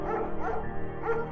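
A German Shepherd barks in the video game Firewatch, giving a few quick, close barks and yips over a steady, droning musical background.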